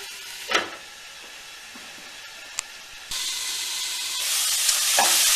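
Chicken and vegetables sizzle in hot oil in a pot, a steady frying hiss with brief clatters that grows louder toward the end.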